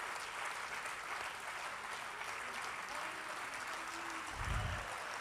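An audience at a Hindi poetry recital claps steadily throughout, with dense, even applause at a constant level and no break.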